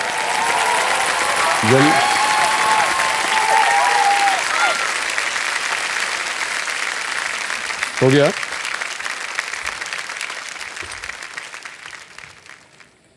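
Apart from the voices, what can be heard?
studio audience applause on a TV quiz show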